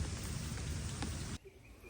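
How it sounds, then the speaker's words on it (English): Light rain drizzles steadily outdoors in a garden setting during tree planting, a dense even patter that cuts off abruptly near the end, leaving quiet with faint distant sounds. "Still drizzling a little bit."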